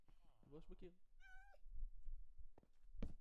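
A single short Minecraft cat meow rings out between a person's talking and some low thumping game noises, fairly close and distinct.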